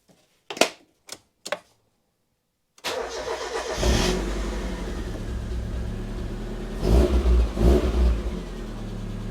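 A Mazda MX5 that has been under fault-finding goes through three short, sharp clicks and ticks, then after a pause its engine cranks, catches and settles into a steady, close idle with a couple of brief revs near the end.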